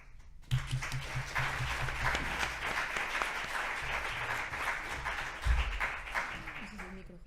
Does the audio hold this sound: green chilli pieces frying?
no